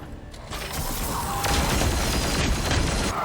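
Ranged weapon fire in the Chaos Gate video game, a dense low rumbling barrage of shots and impacts, loud and sustained throughout with a mechanical clatter on top.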